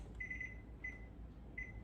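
A kitchen timer beeps in three short bursts, the first longer and the later two brief, fairly faint over a low background hum while whoopie pie batter is being made.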